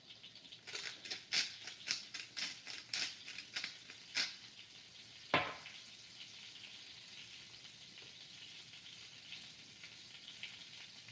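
Butter melting and sizzling in a frying pan before beef is browned; a run of sharp, separate ticks and pops gives way to a single burst, then a soft, steady sizzle continues alone.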